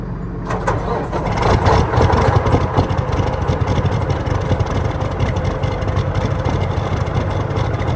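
A farm engine cranks and catches, then settles into a loud, steady idle close by that runs on without a break, with no talking over it.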